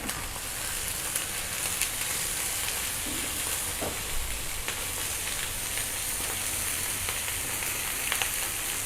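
Steady, dense sizzling of pepes ayam, spiced chicken, toasting in a hot wok, a continuous crackling hiss with faint stirring clatter, close and unbroken by speech.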